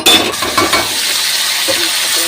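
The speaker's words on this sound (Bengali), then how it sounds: "এটাকে ভাজা ভাজা করে নেবো মাছটা।" Lote fish marinated in turmeric, chili and salt hits hot oil, a loud, close, steady sizzle with a few utensil clinks early on.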